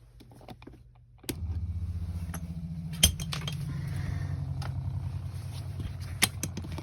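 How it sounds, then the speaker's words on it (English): A water pump in the plumbing of a ProMaster camper van switches on about a second in, giving a steady low motor hum that runs continuously, with a few sharp clicks and knocks over it. "so now I want to turn on the pump"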